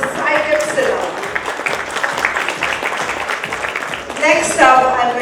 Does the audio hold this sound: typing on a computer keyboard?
no